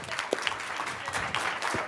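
An audience at a university talk on obstetrics simulation applauds, with dense, steady clapping that lasts throughout.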